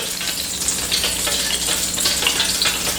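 Oil sizzling loudly and steadily in a pan as lemon pepper chicken wings fry, a dense, even crackle heard close up with no talking.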